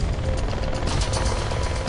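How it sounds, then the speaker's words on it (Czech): A helicopter flies overhead on a fog-covered volcanic island, giving a steady, dense broadband rotor and engine roar that stays loud and even throughout with no talking. "Vidíme vrtulník, jak letí nad námi"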